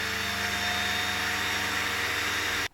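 A 1992 Royal Dirt Devil 150A vacuum cleaner motor runs with a steady, loud, high whine and a constant hum beneath it, then cuts off abruptly at the end.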